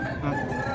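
A rooster at a village market crows once, loud and close, its drawn-out call stretching through the whole brief moment.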